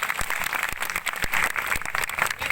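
A crowd at a gathering claps for everyone together, a fairly close, continuous patter of many hands with a few sharper individual claps standing out.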